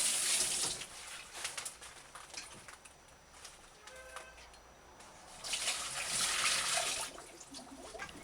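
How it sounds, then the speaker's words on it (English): Water drains from squeezed herbs, trickling and splashing in bursts, louder at the start and again near the end, with a quieter dripping stretch in between. "Just allow the water to drain."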